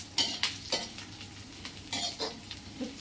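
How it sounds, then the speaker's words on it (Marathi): Cumin, mustard seeds, curry leaves and garlic fry in hot oil, with quiet sizzling broken by several short scraping stirs of a spoon against the pan. "सगळं भाजते आपलं जिरे मोहरी कढीपत्ता लसूण"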